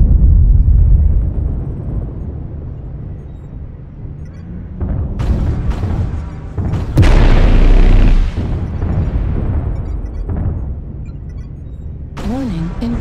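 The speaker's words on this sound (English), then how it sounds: "Artillery strike online." Artillery strike explosions in a MechWarrior battle, heavy booming blasts erupting across the clip, loudest around the middle, layered with mech weapon fire and an intermittent synthetic voice.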